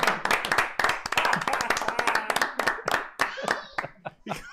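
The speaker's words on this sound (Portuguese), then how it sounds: "Uma salva de palmas." A crowd claps and cheers in lively, fairly close applause at a live podcast show, with some voices mixed in, tapering off toward the end.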